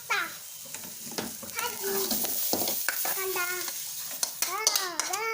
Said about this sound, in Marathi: खोबरं टाकते त्याच्यामध्ये सेपरेट सेपरेट हे करून घ्यायचं भाजून घ्यायचं